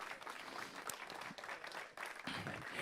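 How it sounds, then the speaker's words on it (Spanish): Church congregation clapping in praise during a sermon, a faint, continuous patter of many hands, quiet and somewhat distant, without speech over it. "Dale aplauso así al Señor."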